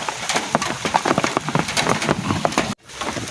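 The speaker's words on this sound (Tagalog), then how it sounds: "Hey, umuulan na." Steady rain falling hard on a surface, a dense patter of close drops that continues throughout, loud and alone, with a brief cut near the end.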